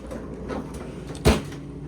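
A single freezer drawer slides open in a home kitchen, one short muffled thump-and-rumble near the middle, close by against quiet room tone.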